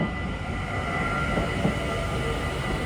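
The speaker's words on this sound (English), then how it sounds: "Our beautiful Dutch trains." Dutch trains pass by with a steady, loud rumble of wheels and rail noise filling the whole stretch, a continuous roar with faint rattles and no voices.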